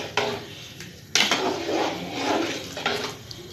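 A spoon stirs a pot of curry with green chilli and chilli flakes on the stove, intermittent clanking scrapes against the metal with a loud knock partway through, close by over a soft bubbling and sizzling background.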